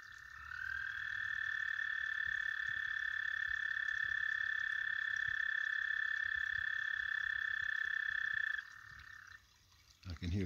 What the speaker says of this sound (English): That is our resident spring peeper, chorus frog living in our pond.